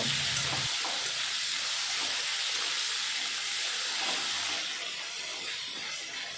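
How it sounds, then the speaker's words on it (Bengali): Potatoes frying in hot oil after fish was fried in the same pan, a dense, steady sizzle that stays loud throughout, with a brief low clatter at the start and a slight hiss change near the end. "এই তেলের ভিতরে দিয়ে দেব মেখে রাখা আলুগুলো। তারপরে আলু ভালো মতন ভেজে নেব।"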